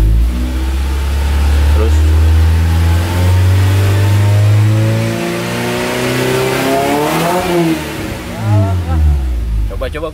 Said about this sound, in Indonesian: kita coba naikkan VTEC-nya di 3800. Mungkin akan lebih terdengar di RPM 3800.